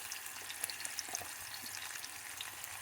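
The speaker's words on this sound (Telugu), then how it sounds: "టమాటాలు వేగుతున్నాయి" Tomatoes sizzle in hot oil in a pan along with fried onions, a steady close crackle with scattered pops and no talk.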